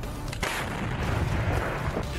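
Russian 2S7 Malka self-propelled artillery gun firing shells at Ukrainian positions, heavy booming blasts with a sharp report near the start and rolling rumbling echoes that fill the rest, no voices.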